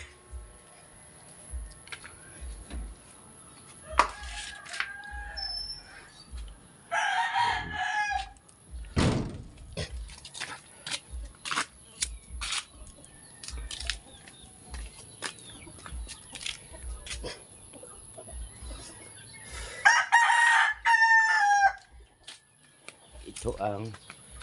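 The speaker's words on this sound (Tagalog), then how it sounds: "mga manok ito dito." Chickens cluck outdoors while a rooster crows loudly near the end, with scattered thuds and someone talking in between.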